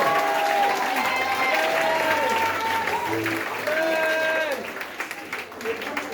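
A church congregation applauds and acclaims Jesus during a sermon by Apostle Yves Okomian, with steady loud clapping and crowd cheering that fades toward the end.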